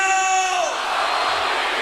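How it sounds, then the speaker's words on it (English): Live-show crowd cheering and whooping loudly, a dense wash of voices that stays steady throughout without any clear speech over it. "Just listen to the crowd"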